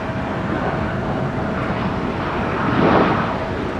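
A Sun Country airliner rumbles at Minneapolis–St. Paul airport, a steady broad jet roar that swells slightly near the end, heard alone without talk.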